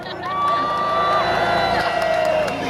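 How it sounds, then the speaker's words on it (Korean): Crowd at a Korean candlelight protest rally cheering and clapping, with whistles and shouts rising over a dense babble of voices, fairly loud and continuous. "자몽단에게도 박수 한번 주십시오."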